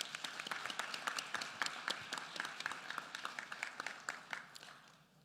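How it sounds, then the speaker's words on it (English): Applause at a public education address, a crowd clapping in a steady dense patter that fades out toward the end, moderately distant and without speech over it. "Please join me in giving them a round of applause"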